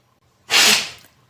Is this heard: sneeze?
yes